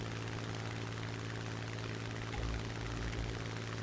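A propeller-driven Yak fighter plane drones steadily during a realistic air battle in a combat flight game, with a constant engine hum that swells slightly near the end.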